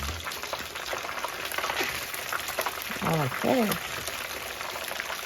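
Fish sizzling in hot oil for escabeche, a steady crackling fry under a quiet kitchen background, with a couple of brief spoon or utensil scrapes and a short spoken word.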